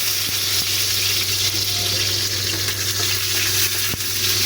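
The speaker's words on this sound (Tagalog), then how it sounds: "Lagay ko ang bawang, sibuyas," Garlic and onion fry in hot oil for chop suey, giving a steady, close sizzle that continues without a break and has faint clinks mixed in.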